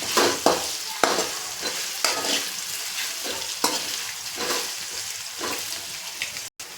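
Potatoes frying in hot oil with asafoetida for spicy Maggi rice, a steady close sizzle broken by repeated scraping stirs of a spoon in the pan.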